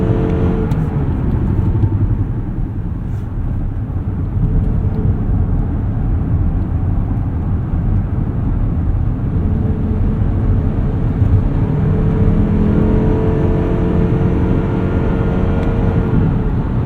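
A 2025 Mazda CX-50 Hybrid accelerates in power mode on the highway, a loud, steady engine drone with road and wind roar inside the cabin, pitch rising gradually throughout.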